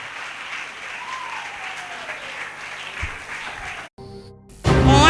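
A church congregation applauds in a sustained, even wash of clapping from many hands. It cuts out briefly near the end and gives way to louder music and voices.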